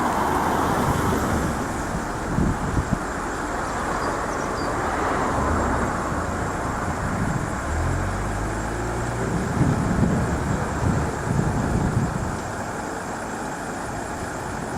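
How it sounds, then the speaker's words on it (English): A heavy tow truck engine idles steadily with a low, continuous rumble, with occasional faint clanks and traffic noise mixed in. "you can't hear it over the top of the truck engine idling"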